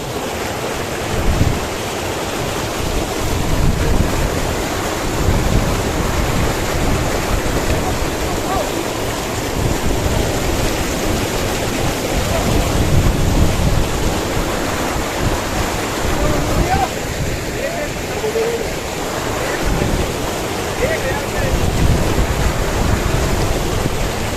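A mountain river rushes loudly and steadily beside the Gangotri to Gaumukh trekking trail, its broad roar close and constant, buffeted by wind noise on the microphone.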